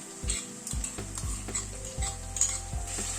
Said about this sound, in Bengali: এবার রসুন আর কাঁচা লঙ্কাটাও পেঁয়াজের সাথে ফ্রাই করে নেব